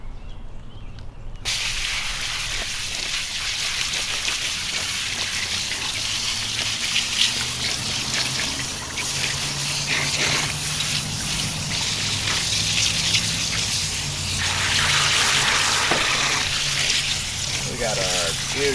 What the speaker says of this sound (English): Here to wash out another t-shirt for you.